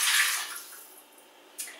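Water poured into a Monsieur Cuisine Connect food processor while making a pepper cream pasta sauce, a brief rushing splash that fades, with a short second splash near the end; no talking.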